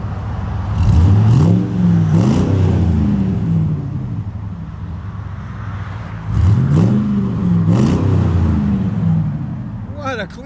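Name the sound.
Chevy Silverado SS 6.0L V8 exhaust revving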